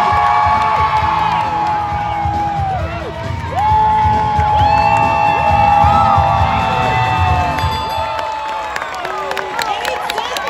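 A loud crowd at an Animal Actors show at Universal Studios Hollywood cheers and whoops nonstop, with high excited voices and shouts layered together throughout.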